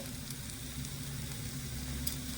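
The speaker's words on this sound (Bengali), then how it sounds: "আলুটা দিয়েও নেড়ে চেড়ে খুব সুন্দরভাবে একটু ভাজা ভাজা করে নিয়েছি" A potato and cabbage filling for pitha fries in a pan, a soft, even sizzle running quietly and steadily throughout.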